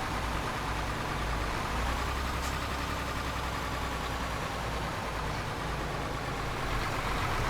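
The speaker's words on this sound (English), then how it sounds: "This motor sounds huge." A truck engine idles in Euro Truck Simulator 2, a steady, loud low rumble that holds evenly throughout with no talk over it.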